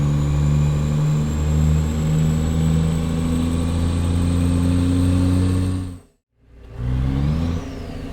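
A Cummins NTC Big Cam 400 truck engine in American Truck Simulator drones loud and steady as the truck is pushed through sweeping bends, with a brief drop to near silence before the engine note returns.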